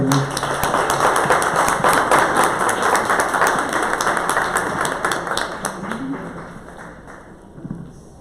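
Church congregation applauding loudly and steadily for several seconds before it tapers off. A few voices are heard near the end.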